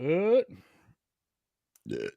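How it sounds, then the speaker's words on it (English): A man lets out a deep, voiced burp right at the start, then stays quiet for a moment before a short grunting sound. "I had a burp, a yawn, all that shit coming up."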